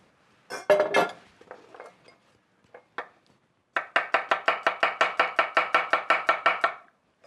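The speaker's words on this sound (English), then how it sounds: "Chop it fine, just like this here, because you want it to disintegrate in the sauce itself." A knife chops garlic and shallots finely on a cutting board, a few scattered cuts and clinks first, then a steady run of about fifteen crisp, evenly spaced chops close by.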